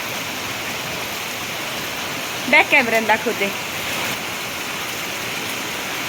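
Heavy monsoon rain pours continuously onto metal roof sheets, a dense, steady rushing roar that does not let up. A voice speaks briefly over it.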